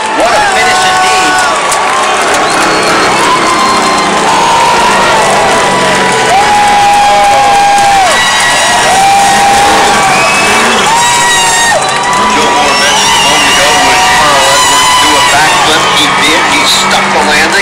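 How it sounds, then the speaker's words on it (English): Crowd cheering and whooping in the grandstands at Phoenix International Raceway, loud and close with shouts, whistles and scattered applause rising and falling, people talking and yelling amid the noise. "celebrated up in the grandstands with the crowd here at Phoenix International Raceway"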